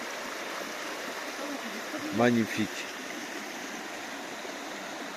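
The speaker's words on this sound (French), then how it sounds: "Petite rivière." Small river stream outdoors, a constant soft rushing flow filling the background, with someone briefly speaking over it near the middle.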